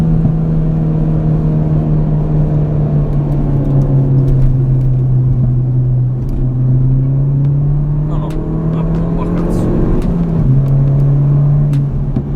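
A 200 hp turbocharged Ford Fiesta ST Mk7 engine drones and pulls steadily from inside the cabin, pitch dipping and rising with a brief gear change and turbo lag hesitation near the end, while someone speaks briefly.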